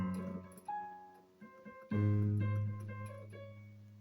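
Piano notes and chords from a song played quickly, with a louder low chord struck midway and ringing out, fairly quiet and alone.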